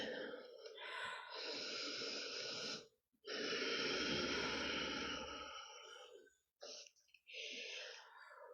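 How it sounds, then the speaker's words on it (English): Slow, deep yoga breathing during a beginner floor yoga class, with long audible inhales and exhales through the nose or mouth, close and clear, separated by short pauses. "inhaling, filling the belly with air. And then exhaling, imagining the breath traveling up and out the nose or the mouth."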